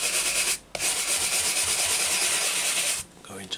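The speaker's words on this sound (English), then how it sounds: "going to scrub it and spread that mud around like so" Weathering mud is scrubbed onto an Eduard Bf 109G-2 scale model aircraft, giving a close, continuous brisk rubbing and scratching, with two short pauses between strokes and no talking.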